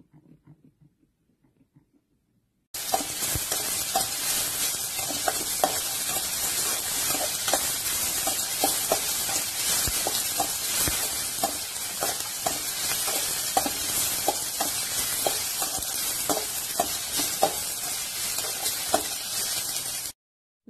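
Urad dal, dried chillies, garlic, coriander seeds, tomato and curry leaves sautéing in oil for chutney, a steady loud sizzle with occasional stirring scrapes, continuous and close, after a brief quiet start.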